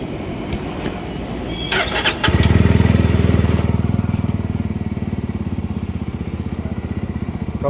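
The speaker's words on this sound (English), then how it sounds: "The engine noise has been reduced very much." Yezdi Roadster motorcycle, a 2026 model with an Alpha 2 engine, cranks and fires up about two seconds in, then settles into a steady, close, pulsing idle with a brief squeal near the start.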